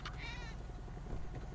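A cat meows once, short and faint, in a GTA roleplay video game, over a low background hum.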